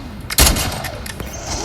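A sniper rifle fires in a Call of Duty Zombies game, one loud sharp shot followed by a fainter second report and lingering game noise.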